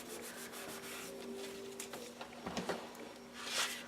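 Glued paper is rubbed down onto a page of a mini album, a close, continuous dry rubbing and swishing with a low steady hum behind it and a louder burst of friction at the end.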